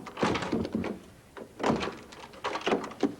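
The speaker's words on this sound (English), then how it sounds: "Steve, open the door." A door opens with a series of thunks and rattling clatter, fairly faint and close by.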